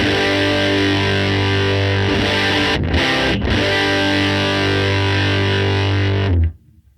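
Cranked amp on a Tone Master Pro with treble and gain maxed, a loud saturated guitar chord held for several seconds with a brief choked gap midway, then stopped sharply.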